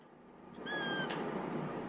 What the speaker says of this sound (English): Let's take a look at the cat. Look at this.